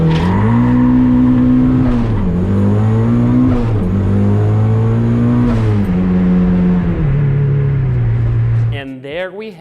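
A turbocharged Mazda Miata launches hard and accelerates, its engine droning loud and close with rising and falling pitch through gear changes before cutting off abruptly, and a voice briefly speaks near the end.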